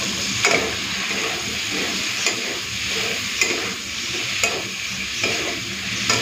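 Taro stolons frying with prawns, turmeric, chilli powder, salt and a little sugar in a pan: a constant near sizzle broken by sharp spatula scrapes about once a second.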